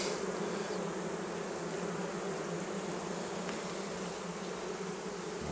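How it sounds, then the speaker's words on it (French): Half-wild, unselected honey bees swarm around a Spanish Layens hive in a natural-build setting, making a dense, steady buzz that holds at an even loudness throughout with no voices. "fabriquée par des abeilles non sélectionnées, à moitié sauvages"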